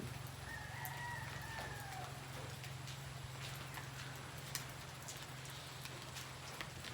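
Chickens and a rooster on a Philippine farm crow and cluck at a distance, a faint rooster call rising early over a steady low hum, with scattered clucks continuing softly.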